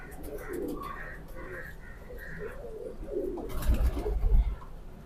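A healthy pigeon held in someone's hand gives soft, low cooing phrases, close and quiet, followed by brief louder handling rustles and bumps toward the end.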